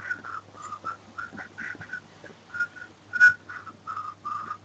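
Someone whistles with the mouth in short, breathy notes, a halting series of pitched toots with uneven gaps, close and fairly soft over a low steady hum in a home setting.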